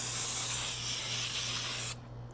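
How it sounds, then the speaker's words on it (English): Foam coil cleaner sprayed from a can into the coils of an RV air conditioner, a loud, steady, close hiss that runs continuously and then cuts off abruptly, leaving quieter background. "you'll be able to still spray that in there, the foam into the coils to get the dirt out"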